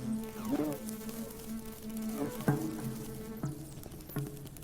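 Bumblebee buzzing close by, a low droning hum that wavers and shifts in pitch as it moves, with a few soft taps and clicks over several seconds.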